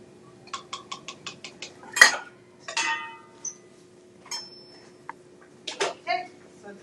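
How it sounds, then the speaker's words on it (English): A spoon clinks and scrapes against a cooking pot while food is stirred at home, a run of light rhythmic taps followed by scattered louder clinks, with a voice and talk breaking in. "Let me stir it"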